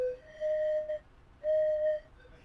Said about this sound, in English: Okay, where's my train whistle?